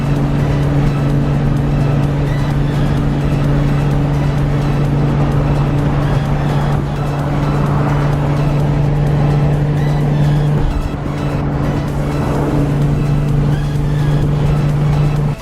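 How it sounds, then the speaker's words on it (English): A Lexus LC sports car approaches on the road, heard from inside a moving car as a steady, loud engine and road drone with a strong low hum throughout, with no talking. "this beautiful, beautiful Lexus LC is coming up on us"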